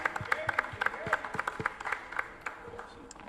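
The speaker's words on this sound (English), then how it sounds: "Everybody give her a round of applause." An audience gives a round of applause for a commissioner at a mental health panel event in Pompano Beach. The claps are fairly sparse and distinct, rising and falling with voices talking over them.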